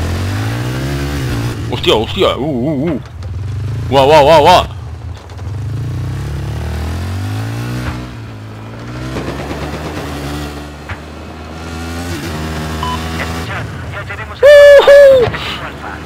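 A motorcycle engine in Battlefield 4 revs in several rising surges, heard beneath loud, excited Spanish-speaking voices and other game noise.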